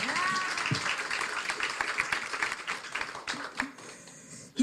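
Audience applause at a televised interview, a dense patter of clapping running steadily through the clip with a few sharper individual claps near the end.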